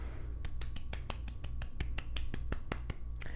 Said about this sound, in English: I had to give myself a clap